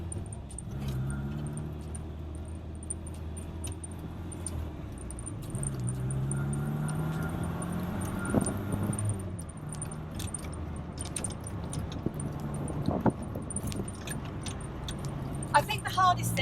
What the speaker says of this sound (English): We're going to go up through the gears so you can hear the gear change